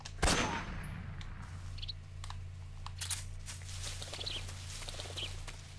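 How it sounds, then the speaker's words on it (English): A sniper rifle shot in Metal Gear Solid 3, one sharp loud crack near the start that decays into a steady low ambient hum, with faint sparse clicks and bird-like chirps afterward. "these guys over here still didn't hear that gunshot"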